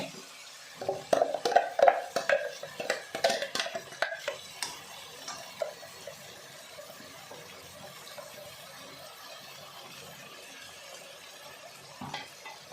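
Ground masala paste being added and stirred into frying tomatoes in a pan for methi bath, with scraping, clinking utensil strokes and a light sizzle, busiest in the first few seconds, then quieter low sizzling.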